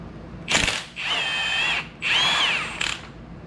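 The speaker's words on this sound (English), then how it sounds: "You can go ahead and take the top nut off. That's going to be a 17 millimeter." A power tool spins off the 17 mm top nut while a Rancho 3-inch lift is fitted to a Ford F-150: two loud, sustained whirring bursts framed by brief ratcheting clicks, close up.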